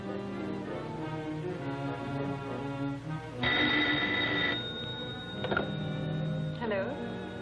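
A telephone rings within an old radio serial drama, its bright electric bell bursts cutting in after background music and voices, sounding twice in close succession at moderate volume.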